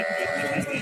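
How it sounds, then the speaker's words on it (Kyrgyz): A single short, nasal bleat from a sheep among ewes with lambs at the Özgön livestock market, close and clear against a faint background hum. "Бул жерде эле козулуу койлор."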